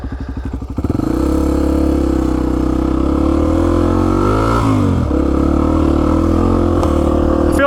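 A Honda XR250 dirt bike engine heard from the rider's position while riding, idling with a lumpy putter before rising into a loud, steady drone with a brief dip in revs midway.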